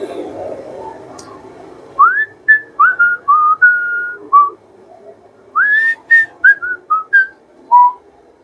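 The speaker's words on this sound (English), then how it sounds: "Probably shouldn't whistle" A person whistles a melodic tune of short rising and falling notes in two phrases, clear and close, over a faint low background hum, with no talk.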